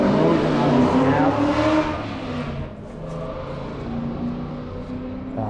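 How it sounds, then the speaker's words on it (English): A loud hot rod roars past nearby, its engine revving hard and then dropping in pitch as it goes by, leaving a lingering rumble that stays fairly strong. "Some guy with a loud car."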